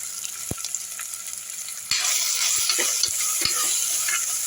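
Onions and mint leaves sautéing in a pan for roadside-style vada curry, a constant close sizzle with a few sharp ladle knocks, growing louder as stirring picks up.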